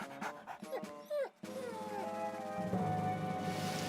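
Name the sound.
cartoon dog whimpering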